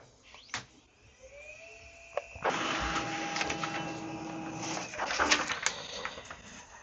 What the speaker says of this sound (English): find network configuration, this one, press OK, and print the information.